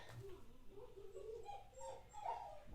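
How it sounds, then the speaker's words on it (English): Dogs next door give faint, intermittent yips and whimpering barks in the distance, rising and falling over a low background hum. "Dogs are out next door."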